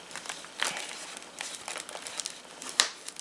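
Paper crinkling and rustling as sewn signatures are pushed over and creased in a hardcover junk journal, with soft repeated crackles and a sharper crinkle near the end, close and quiet.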